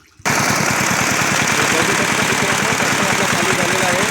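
A small tractor engine catches after a brief quiet moment, then runs in a loud, fast, steady chugging rhythm with hard mechanical knocking pulses close to the listener.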